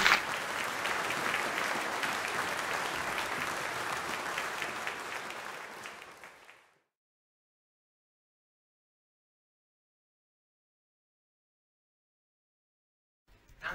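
Audience at an awards event for sports commentators applauding steadily for several seconds, loud and sustained, then fading out into silence.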